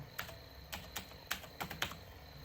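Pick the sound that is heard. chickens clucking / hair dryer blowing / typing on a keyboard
typing on a keyboard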